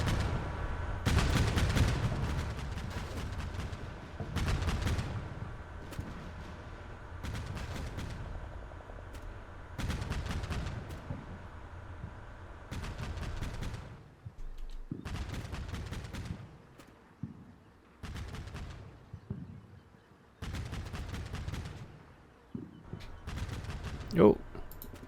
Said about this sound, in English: I am enjoying the sound of these guns.